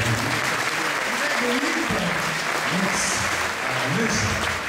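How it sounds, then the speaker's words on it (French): A crowd at the Miss Sud Loire 2010 pageant in Touvois claps in dense, continuous applause that stays loud throughout, with voices audible underneath. "On les applaudit aussi tous les deux parce que vous avez applaudi."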